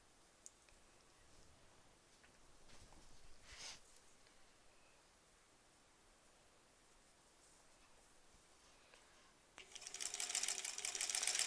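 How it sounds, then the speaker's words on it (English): A sewing machine joins small quilt fabric scraps, quiet handling and clicks at first, then a loud steady run of stitching starting near the end. "Let's sew it onto here."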